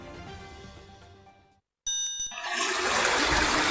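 Floodwater rushes through Baling, Kedah, a loud, dense churning roar that starts abruptly after a brief silence and runs steadily to the end. A few bright ringing tones sound just before the water comes in.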